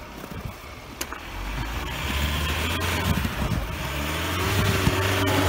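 A Ford Endeavour stuck in snow rumbles low and steady, the engine rising slightly in strength as it strains, with wind buffeting the microphone and occasional knocks.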